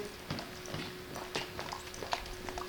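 A horse's hooves clop in an uneven walking rhythm on hard ground, fairly quiet and close, with no voices.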